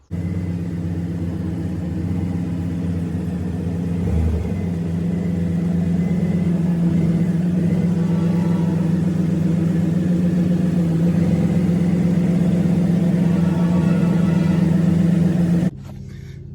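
An old pickup truck engine idles with a steady low rumble that slowly builds while backing up, running continuously before cutting off abruptly near the end.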